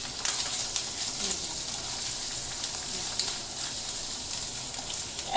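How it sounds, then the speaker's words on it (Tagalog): Mushrooms frying until crisp in a spattering pan, a steady close sizzle with small scattered crackles and no voices. "I fry the mushroom para may crispiness sa mushroom natin"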